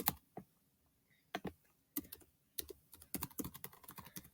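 Clacking keystrokes on a computer keyboard while a list is entered into a note-taking app, sparse isolated taps at first, then a faster close run of typing, no talking.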